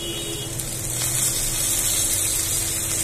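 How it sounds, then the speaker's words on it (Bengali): Ginger and garlic paste sizzles steadily in hot oil in a pan, a close, continuous frying hiss that grows slightly louder partway through, with no voices. "রসুন আদা বাটাটা একটু ভালো করে হালকা করে ভেজে নেব"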